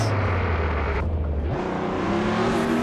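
A car drifting in the video game Assetto Corsa on Xbox One: a loud, steady engine drone that shifts pitch midway as the revs change, with a broad hiss of tyre and road noise and no talk.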